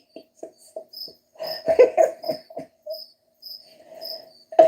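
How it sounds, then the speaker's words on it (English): Crickets chirping in repeated short bursts, clear and close against otherwise quiet surroundings, with a denser cluster of overlapping chirps in the middle and a sharp final chirp at the end. "crickets from space"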